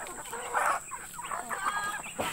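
Soft, scattered clucking from a few village chickens in a quiet outdoor setting with a steady high-pitched insect-like hum.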